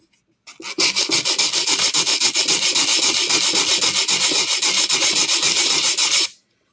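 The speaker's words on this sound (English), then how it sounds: "I'm just showing you what it's like to sand one area." Steady back-and-forth rasping of sandpaper rubbed by hand over wood, quick even strokes for several seconds before stopping abruptly.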